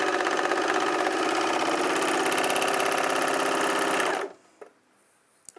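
Sewing machine running fast and steady, stitching a small test piece of fabric, a dense loud rattling whir that cuts off abruptly, followed by a couple of faint clicks.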